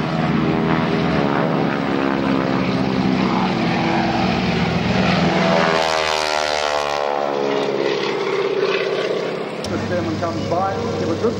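A Stearman biplane passes at the Duxford Autumn Air Show, its loud radial engine and propeller drone rising and shifting pitch as it flies by, with people talking over it.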